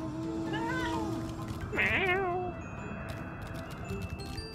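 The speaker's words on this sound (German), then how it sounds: "Digga Katze." A cat meows twice, loud and close, the second call higher and more strained, over a steady background hum and faint clicks during a Final Fantasy XIV livestream.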